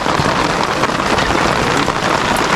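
Heavy rain pours down in a dense, steady, loud hiss of drops hitting surfaces, unbroken and close, with no voices.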